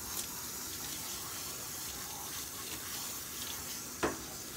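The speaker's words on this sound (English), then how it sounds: "Again, rinsing until the water's clear." Steady rush of water rinsing a dog during grooming, a constant close hiss of spray with one brief splash near the end, no voices.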